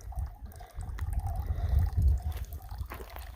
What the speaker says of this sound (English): Water flowing nicely.